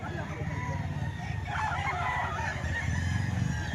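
A hen-feathered gamecock at a poultry spot in Lipa, Batangas, crows close by, its call rising over a busy background as people talk nearby.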